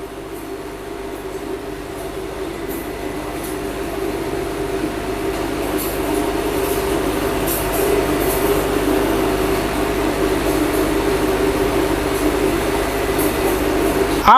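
A WAG 12 electric locomotive running, a loud continuous rumble with a steady mechanical hum that builds slightly over its length, with faint higher rattles and no voices.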